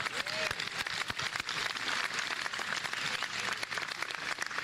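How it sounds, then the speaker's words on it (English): Crowd applause at a university commencement ceremony, dense clapping from a large gathering with sharp individual claps standing out, sustained at steady moderate loudness throughout. "that deserves a round of applause"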